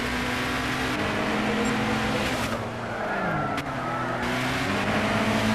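A Nissan Zytek LMP2 race car in Gran Turismo 6 at Le Mans roars steadily at high revs, with its engine note shifting as it downshifts and brief tire-scrub noise as it clips the grass, no talking.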